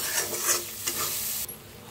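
Masala paste sizzles and spits in hot oil in a pan, a steady close frying hiss with stirring scrapes, no voices.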